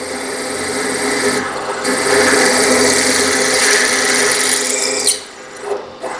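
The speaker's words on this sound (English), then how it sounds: "Gotta love a nice sharp drill bit though." A power drill with a sharp bit grinds steadily into metal for about five seconds while making indexable vise jaws for a Kurt vise, loud and close, then winds down with a few brief spurts.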